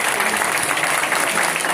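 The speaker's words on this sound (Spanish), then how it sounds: "Un fuerte aplauso." Dense, steady applause fills a crowd at a swearing-in ceremony for a Dominican political party, a continuous even roar of many hands with no break.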